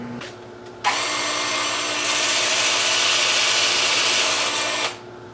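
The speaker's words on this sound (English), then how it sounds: "I'll just take it over here to the workbench and sand this area up" Power sanding on an alder wood platter at a workbench, a loud steady rasping whir that starts abruptly, grows fuller midway and cuts off after about four seconds, with no talking.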